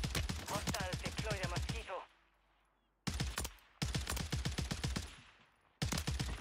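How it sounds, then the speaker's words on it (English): Rapid automatic gunfire from an HRM-9 submachine gun in Call of Duty: Warzone 3 on Rebirth Island, loud close bursts separated by short silent gaps. "Oh, them shots are crazy."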